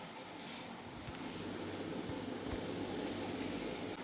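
Quiz screen countdown timer sounding in repeated pairs of bright electronic beeps, four double-beep groups at a steady one-second pace, with a faint soft tick and low background hum between them.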